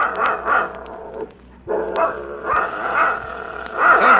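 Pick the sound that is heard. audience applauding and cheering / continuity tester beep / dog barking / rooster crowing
dog barking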